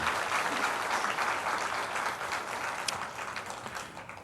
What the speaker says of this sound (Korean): 박수로 우리 축복하겠습니다